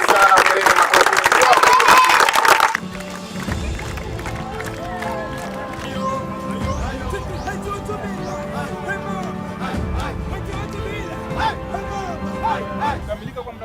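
A crowd at a project ceremony claps in a short burst of dense applause at the start, then drops to a thinner background of scattered claps, murmuring and crowd noise.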